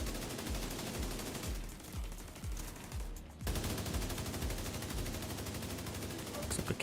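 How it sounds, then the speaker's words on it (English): Assault rifle fire in The Division 2 crackles in rapid bursts of close shots, pausing briefly before resuming in a denser stream over constant combat ambience. "so I'm switching to my assault rifle for that reason."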